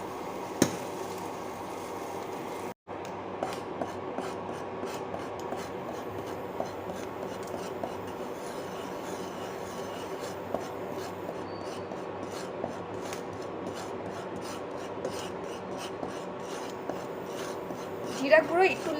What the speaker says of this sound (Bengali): চামচ দিয়ে নাড়তে থাকি।